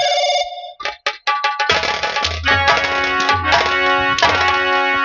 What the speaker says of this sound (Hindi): तेरे बाप का फोन आ रहा है।